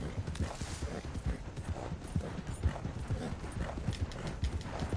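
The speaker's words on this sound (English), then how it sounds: "I got a fast horse, Dutch." Horse galloping in the video game Red Dead Redemption 2, a rapid continuous drumming of hooves at moderate volume with faint rattling tack, carrying on steadily throughout.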